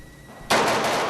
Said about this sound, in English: We just heard a gunshot.